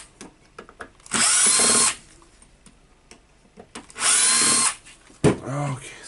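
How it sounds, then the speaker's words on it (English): A power drill unscrews fasteners from a 1998 Makita HR2410 rotary hammer, two loud, steady whirring bursts about a second each, separated by small clicks and handling noises, ending with a brief rattling spin. "now I will try to unscrew it with a drill"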